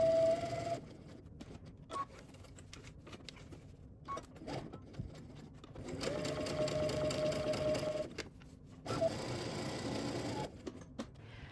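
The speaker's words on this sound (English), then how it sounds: "we're going to create 2 rows of gathering stitches" A home sewing machine runs in several bursts of steady whirring, sewing two rows of gathering stitches on a dress pattern, with pauses and small clicks between runs and no talking.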